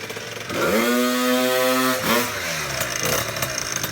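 Booster Most 70cc two-stroke scooter engine on its first start after assembly, revving up into a loud buzzing whine for over a second, then dropping back to a rough idle.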